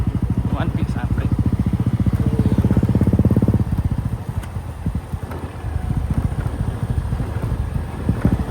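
A motorcycle engine runs steadily with a pulsing thump, loudest early on and then easing, with wind buffeting the microphone and a voice talking over it.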